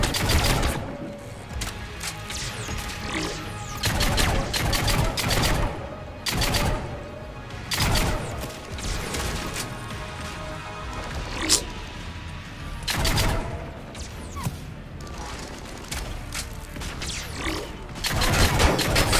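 Repeated bursts of gunfire in the Mass Effect 3 video game, loud sharp volleys recurring across the stretch amid a dense game soundscape, with no talk.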